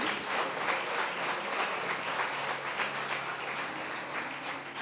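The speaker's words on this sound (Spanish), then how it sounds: "Aplauda," A church congregation applauds, a dense, continuous patter of many hands clapping at moderate distance that holds steady and then slowly fades.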